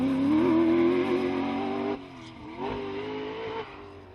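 Rally car engine on the Sweet Lamb forest stages, a loud harmonic drone that holds steady, drops briefly near two seconds and climbs again into a fresh rev with a short gear-change dip toward the end.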